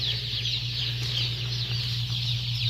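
Broiler chickens in a poultry house cluck and chatter continuously as a dense flock, layered over a steady low mechanical hum from ventilation equipment.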